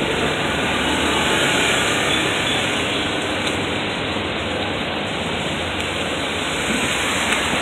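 Steady, loud rainfall in a place where it rains often, a dense unbroken wash of drops that fills the whole stretch with no talking over it.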